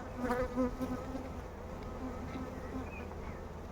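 Honey bees buzzing around an opened beehive during a hive check and transfer, a close, continuous droning hum with a few louder passes near the start.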